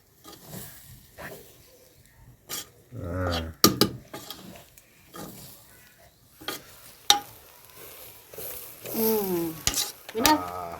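Lentil flour is stirred into a pot of chicken gravy with repeated scraping strokes and clinks of a spoon against the pot, and brief bursts of talk come in between.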